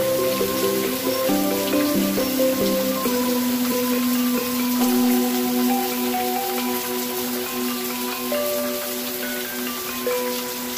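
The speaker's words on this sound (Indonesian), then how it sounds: "Pertama kali hujan yang paling gede teman-teman." Heavy rain falls steadily on surfaces in the countryside of Sapudi Island, a dense, even patter running throughout with no voices.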